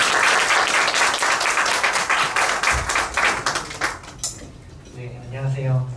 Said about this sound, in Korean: 저희를 위해서 멀리서 와주신 테디님을 위해서 큰 박수 부탁드리겠습니다.